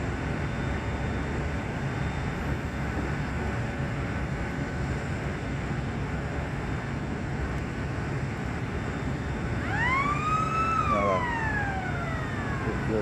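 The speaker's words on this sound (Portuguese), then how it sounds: "Daqui a pouquinho ela toca a sirene para tombar a outra parte da carreta." Siren on a tipping truck trailer at a sugar mill during unloading, sounding once near the end as a single rising and falling wail over constant loud industrial rumble and machinery noise.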